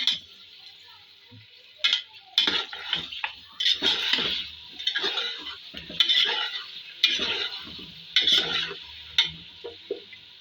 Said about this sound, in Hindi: इसके अंदर हम मटन डालेंगे और इसको भी थोड़ा फ्राई कर लेंगे